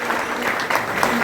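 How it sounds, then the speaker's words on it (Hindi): Steady applause from an audience at an electricians' award ceremony, dense continuous clapping with no breaks, fairly loud and close throughout. "सर एक जोर से ताली हो जाए"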